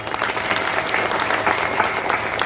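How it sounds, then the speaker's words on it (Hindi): Audience members at a satsang gathering in Patna clap together in a dense, steady burst of applause that fills the short stretch. "अब तो ताली बजा दो ना जी"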